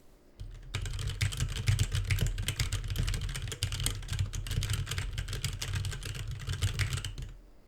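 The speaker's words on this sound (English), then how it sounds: "let's bang around on the keyboard" Steady, fast clatter of keys on a computer keyboard, close and continuous for several seconds, with no voices.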